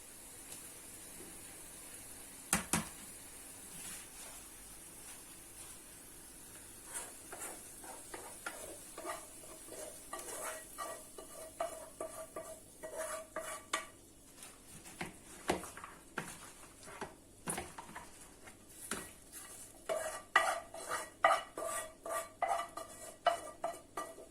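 Spinach being stirred together with a cooked onion filling in a pan for a Turkish spinach kömbe pie, a steady run of soft scraping, clinking utensil strokes and light sizzle, growing busier toward the end, with no talking.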